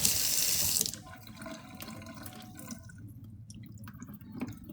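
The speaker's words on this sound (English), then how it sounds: "I'm going to rinse that just a little bit because it had that heavy syrup" Tap water runs hard into a kitchen sink for about a second as canned pineapple is rinsed of its heavy syrup, then eases to a softer, steady trickle and splashing close by, with no talking.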